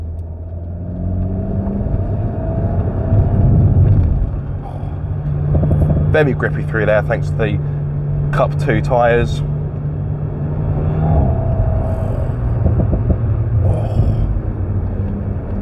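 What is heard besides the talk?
Alpine A110 S sports car exhaust note while driving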